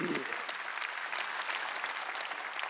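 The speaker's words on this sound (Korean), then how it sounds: "박수 치라 얘기야" Dense applause from a church congregation at a Wednesday worship service, a steady wash of many hands clapping together, close and continuous, with voices faintly mixed in.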